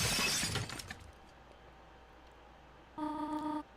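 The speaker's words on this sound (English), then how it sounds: "That was the alarm." Alarm in the video game Deltarune: after a fading crash, a short steady electronic ringing tone sounds for about half a second, clean and alone.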